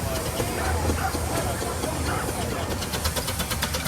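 A Sentinel steam wagon in Tarmac livery at an outdoor steam show, its steady low mechanical chugging running continuously beneath broad show-ground noise, with no clear talk over it.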